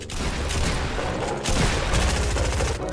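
Dense gunfire in the video game Fortnite, continuous loud overlapping shots forming a heavy fusillade with a brief dip before the firing resumes.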